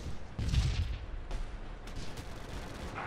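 Cannon fire in the WWII tank game Theatre of War, Battle for Moscow 1941: a single heavy boom with a low rumbling body, followed by a fading reverberant tail under continuous battle noise.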